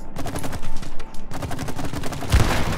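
Rapid bursts of video game gunfire, close and loud, firing in quick volleys with a heavier blast near the end.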